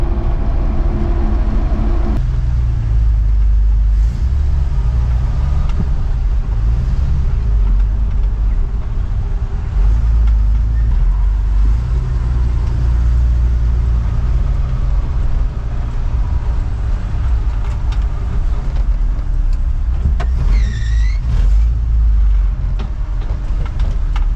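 Land Rover truck driven on the road, a steady loud low engine and road rumble running continuously throughout with no talk over it.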